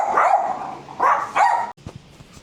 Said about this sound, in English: They just bark at anyone who comes up.